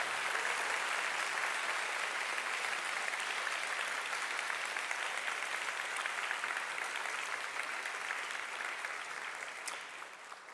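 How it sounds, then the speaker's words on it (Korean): A church conference audience gives sustained applause, a dense even wash of many hands clapping that fades slightly toward the end, with no speech over it. "박수로 감사를 표하십시다."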